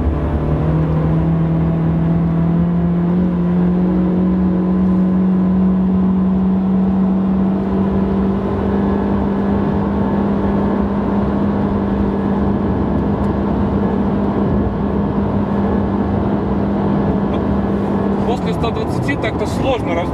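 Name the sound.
Nissan Sentra car accelerating during test drive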